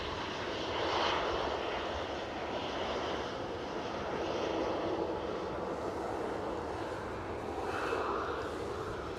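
A Ryanair passenger jet at Newcastle International Airport gives a steady, fairly distant engine roar that slowly swells and fades outdoors, with no talk over it.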